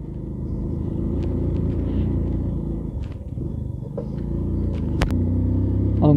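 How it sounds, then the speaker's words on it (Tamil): A 100cc motorcycle with a weakening timing chain rides along in heavy rain, its steady low engine rumble continuous and close with small clicks and rattles on top. "சவுண்ட் வந்து லைட்டாக வண்டியோட சவுண்ட் மாறி இருக்கு"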